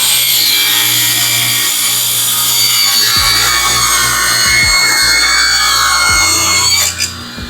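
Table saw cutting through wood, with a piece fed by a push stick: a loud, continuous whine and rasp of the blade in the cut, close up, easing off at the end.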